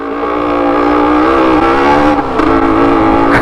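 A Honda CG motorcycle engine revving close up, a loud steady buzzing drone with brief dips and pickups in pitch, no talking.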